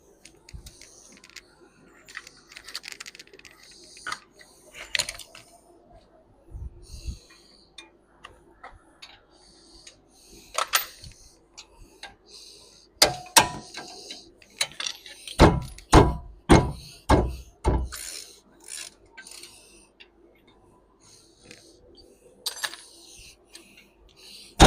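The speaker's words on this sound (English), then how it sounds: "And now we're about to take the brake caliper bracket off." Metallic clicks, knocks and ratcheting taps come from work on a brake caliper bracket of a 2012 Lincoln MKX during a wheel bearing job, scattered at first, then a quick run of sharp clacks.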